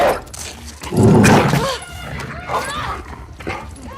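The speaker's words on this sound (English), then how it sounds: "WLF use trained dogs to found you and attack without warning." Trained dogs bark and yelp in The Last of Us Part 2, with a loud burst of barking near the middle over ongoing game sounds and a voice talking throughout.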